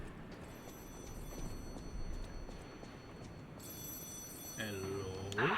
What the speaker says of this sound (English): Oh, a phone.